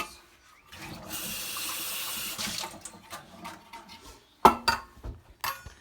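Hot water gushes from a tap in a steady stream for a couple of seconds to sterilize hand-feeding tools for baby lovebirds, followed by a few clinks of utensils in a sink.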